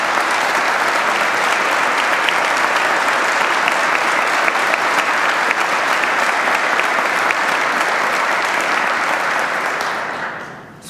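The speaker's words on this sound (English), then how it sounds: "Good to see the legislature applauding for fiscal responsibility." The New Jersey legislature applauding during a 2002 state budget speech, a dense, steady wall of clapping from a large chamber that holds for about ten seconds before tapering off at the end.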